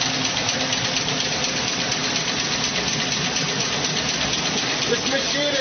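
A machine built from a water pump and a flywheel-driven generator runs steadily, a loud, continuous mechanical hum and rattle like an engine idling, with a voice talking over it.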